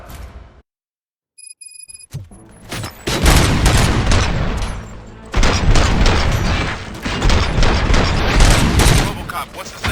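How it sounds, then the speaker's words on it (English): RoboCop: Rogue City game sound: heavy bursts of gunfire rattle almost continuously after a brief silence, loud and near, with booming impacts mixed in. "Gunshots? What's going on?"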